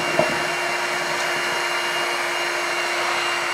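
A corded Shark HydroVac WD161 wet vacuum runs steadily in deep clean mode, laying down solution and suctioning a messy floor, with a loud constant motor whine and a faint clunk at the start.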